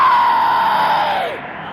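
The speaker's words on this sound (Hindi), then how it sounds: "एक भयभीत औरत की जोरदार चीख फूट पड़ी।" A frightened woman's loud, drawn-out scream, used as an audiobook sound effect, holds one high piercing pitch and then bends downward as it fades near the end.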